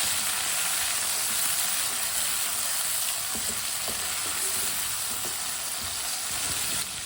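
Chopped tomato and green chillies being stirred into turnip and peas in a hot pan, a constant loud sizzle of frying with soft scraping stir sounds partway through.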